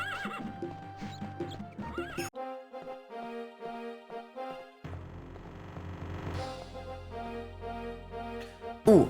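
A horse in the video game Daggerfall Unity whinnies loudly several times in distinct tonal bursts, with soft hoof clip-clops between them and no talking.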